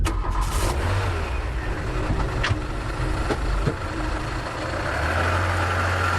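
A car engine runs steadily through a Hindi horror drama scene, a loud low rumble with a brief surge near the start and a deeper revving swell toward the end.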